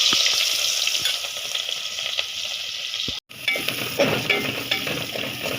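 Onions frying in a pan of hot oil just after fish, with a loud, continuous sizzle and crackle, scraping stirs, and a brief dropout partway through.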